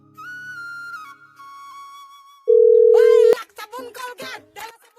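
Phone call tones in an Assamese drama scene: a long steady tone, then a sharp, loud beep before speech resumes, with people talking around it.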